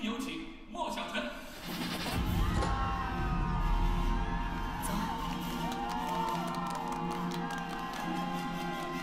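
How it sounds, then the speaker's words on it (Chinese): A stage-show audience breaks into cheering and applause that swells after a brief lull, with whoops and shouted voices rising above the crowd noise. "让我们掌声有请"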